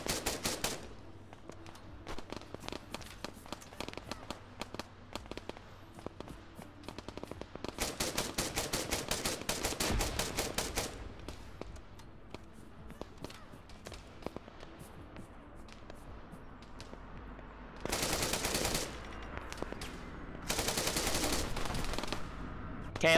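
Rapid bursts of automatic gunfire in an Arma 3 battle, mixing single shots with long, loud sustained volleys and sporadic distant cracks between them.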